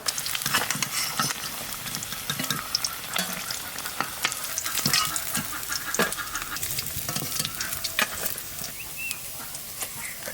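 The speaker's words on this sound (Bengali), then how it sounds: "এই রান্নাটা করার জন্য মাছটা একটু কড়া ভাজা দিতে হবে।" Katla fish fries hard in hot oil, a steady close crackle and sizzle with bursts of sharper spitting pops throughout, and no voices.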